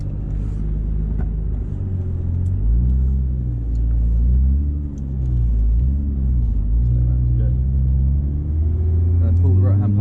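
A car pulls away slowly from rest on a driving lesson, its low engine rumble steady and close with gentle rises in pitch as it creeps forward, while an instructor talks over it.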